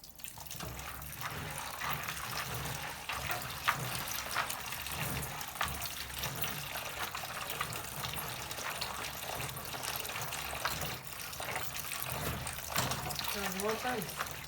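Tap water runs steadily with a broad hissing splash, continuous and fairly close, with occasional faint voice sounds near the end, rinsing beans while peeling them for akara or moimoi.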